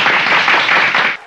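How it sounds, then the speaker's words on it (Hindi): Audience clapping at a political speech, a loud, dense burst of applause from many hands that fades out after a little over a second. "बजाओ ताली"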